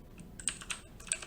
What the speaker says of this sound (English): we'll just type in name